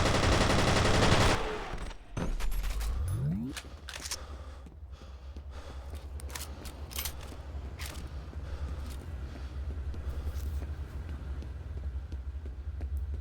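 Rapid gunfire in the FEAR shooter game on Xbox, loud bursts of automatic fire with sharp individual shots and metallic clatter, continuing in irregular volleys over a low rumbling background.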